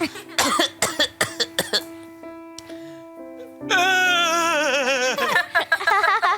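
A voice imitates repeated coughing in a string of short bursts, then a pause, followed by a wavering, strained vocal sound.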